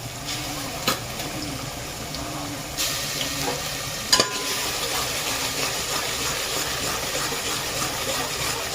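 Garlic sizzling steadily in a hot pan as the base for egg dum biryani, a continuous frying hiss with a few brief clinks and stirring scrapes, close and fairly loud, no voices.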